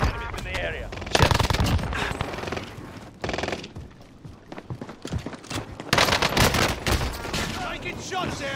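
H4 Blixen gunfire in the Call of Duty map Fortune's Keep comes in several loud rapid bursts separated by quieter gaps, close and punchy, with a voice talking between them.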